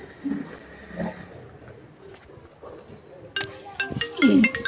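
A mobile phone rings in a Malian drama scene, its bright repeating electronic tone cutting in near the end, close and loud, after quieter room sound with faint voices.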